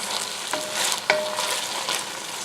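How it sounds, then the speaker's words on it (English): Spoon stirring chicken tortilla soup with black beans in a pot, a steady scraping and sloshing with a sizzle underneath and a couple of sharper knocks against the pot, close and alone. "I'm just going to give this a stir."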